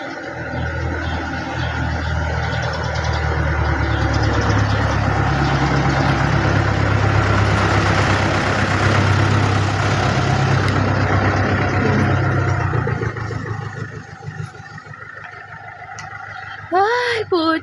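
A jeep engine idles with a steady low rumble throughout, while people talk over it nearby.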